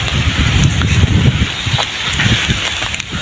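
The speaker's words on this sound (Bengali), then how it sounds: "বাতাস যেন থামছেই না।" Strong gusting wind during Cyclone Remal over open fields in rain, a loud rough roar of buffeting against the microphone that surges and dips continuously, with no talking.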